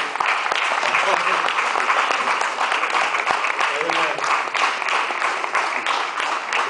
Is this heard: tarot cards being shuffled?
no